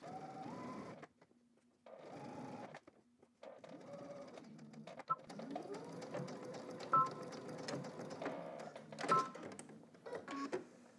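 A sewing machine stitches down garment pocket bags in several bursts of fast, whirring needle runs, separated by brief pauses and small clicks as the fabric is repositioned.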